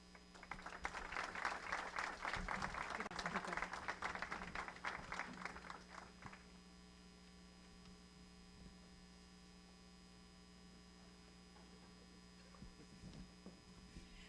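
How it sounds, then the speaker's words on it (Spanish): Audience applause at a presentation of the ninth Alternative Report, a dense burst of clapping for about six seconds that then stops, leaving a steady mains hum in a quiet room. "Nuevamente un aplauso"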